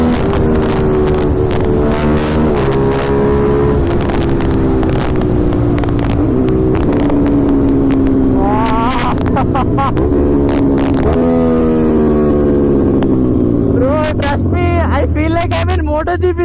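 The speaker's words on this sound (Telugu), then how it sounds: "దట్స్ వై ఒక 600cc this thing has a SC project full system titanium" An Aprilia RS 660 motorcycle with a 660cc engine and an SC Project full titanium exhaust system revs loudly and close, its note rising and falling through repeated throttle blips, with voices talking over it.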